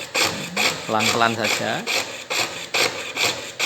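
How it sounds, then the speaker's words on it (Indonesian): Hand saw cutting a brass plate for an abstract heart pendant: a steady series of rasping strokes, roughly two per second, close and fairly loud, with a brief spoken remark partway through. "Jadi plat kuningannya yang kita gergaji tidak boleh bergerak sama sekali."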